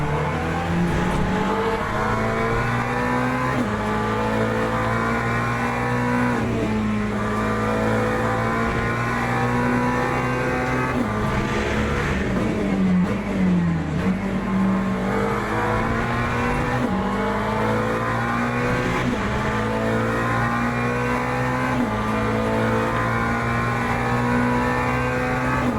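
GT3 race car engine in the Le Mans Ultimate racing game at Bahrain, a loud, steady engine drone throughout, with rising and falling revs through gear changes and a brief squeal-like dip near the middle, no talk.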